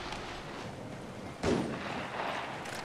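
Gunfire rattles through a match of Apex Legends Mobile, with a sharp, louder burst in the middle standing out over a steady bed of game noise and distant shots.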